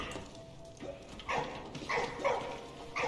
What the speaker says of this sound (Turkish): Ne havlıyorsun?